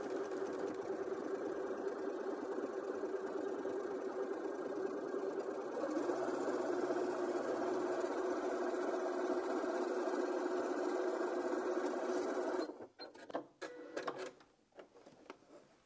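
A Janome M200QDC sewing machine runs steadily for about twelve seconds, stitching through quilt layers with a loud, even mechanical drone, then stops and leaves a few scattered clicks and handling noises.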